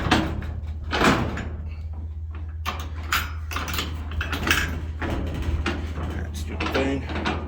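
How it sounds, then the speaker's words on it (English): Heavy garage doors being opened with clunks, rattles and scraping mechanical sounds over a low engine hum, with a person speaking intermittently. "All right, let's get these doors open."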